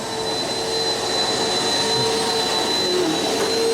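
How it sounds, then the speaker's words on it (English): A vacuum cleaner runs in a newly painted workshop room, a loud, steady, close motor roar with a high whine and no pauses. "There she is, vacuuming."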